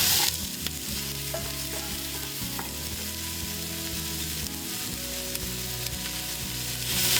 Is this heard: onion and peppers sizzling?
yes